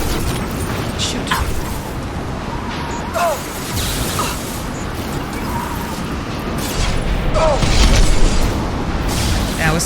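Mass Effect 2 combat rumbles continuously with booming weapon fire and heavy impacts, punctuated by brief bursts and ringing tones over a dense noisy bed.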